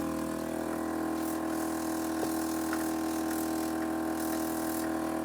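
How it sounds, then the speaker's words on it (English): An air ride suspension compressor hums steadily on a Mercedes 190E, with the ignition switched on; the sound is a constant, moderately faint electric drone with light rattles. "And we have compressor."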